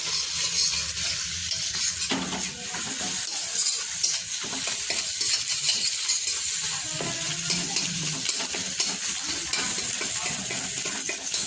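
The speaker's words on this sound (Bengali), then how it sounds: "সব সবজি ভাজা হয়ে গেছে ডিম ভাজা হয়ে গেছে" Eggs and vegetables fry in a pan while chow mein is being made at home, giving a steady, close sizzle with scraping stirs throughout and no talking.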